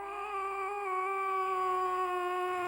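A performer on a comedy stage show imitates a cat's meow, holding one long, wavering, tonal yowl that rises slightly in strength and stays close and clear.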